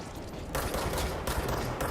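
A rapid burst of video game gunfire in Control, a dense string of sharp shots fired in quick succession, loud and close with no pause.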